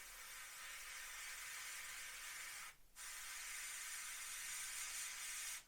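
A steady, fine airbrush hiss sprays paint through a template onto a Takom AH-64D Apache model kit, pausing briefly about halfway before resuming at the same even level.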